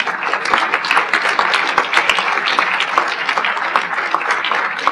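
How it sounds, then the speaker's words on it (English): A crowd applauds steadily, a dense wash of many hands clapping at a fairly loud, even level throughout. "Let's give them all a round of applause."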